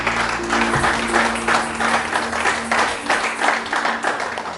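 A church congregation applauds together in a steady wash of clapping, loud and close, with faint voices mixed in during a French-language service.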